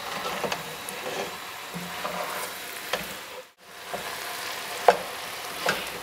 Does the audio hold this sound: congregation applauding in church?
no